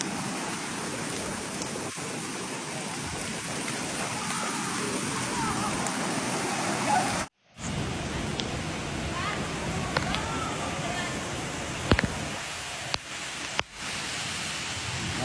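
Heavy rain from a deluge in Paris after a day of extreme heat pours as a dense, steady hiss throughout, with a brief dropout midway and a few faint clicks and knocks near the end.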